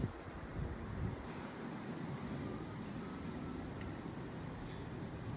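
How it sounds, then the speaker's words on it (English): Steady, roaring wind blasts across the microphone, a continuous low rumble and hiss without pauses or voices. "I don't know if y'all can hear the wind."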